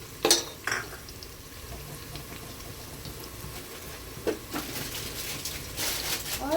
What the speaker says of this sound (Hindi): काजू को भी हम इसी में फ्राई कर लेंगे।